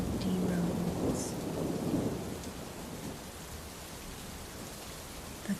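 Steady rain falls across empty roads as a soft, continuous hiss, with a low thunder rumble swelling in the first couple of seconds before fading into the even downpour.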